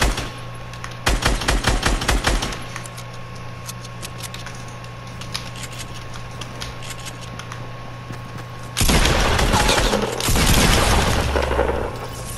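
Fortnite gunfire: rapid clusters of sharp shots crack in quick bursts early on, then a quieter stretch with a steady hum, before a heavy, louder barrage of dense firing closes it out.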